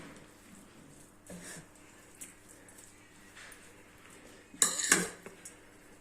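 Kale salad with chopped pumpkin is being tossed in a bowl. Quiet, sporadic utensil scrapes build to one brief, louder clatter near the end.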